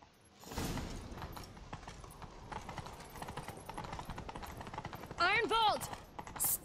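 Hooves of a galloping horse in The Witcher 3 clatter in a fast steady rhythm over game music, with a brief whinny-like cry toward the end.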